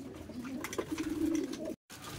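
Trained racing pigeons coo softly at a loft during a summer race training session, low throaty murmurs swelling into a sustained close coo before a brief dropout.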